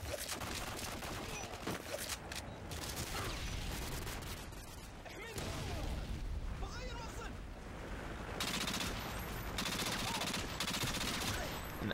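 F2000 rifle firing in Modern Warfare 2 on the Scrapyard map, dense loud bursts of rapid automatic gunfire packed throughout, with a voice talking over the shots.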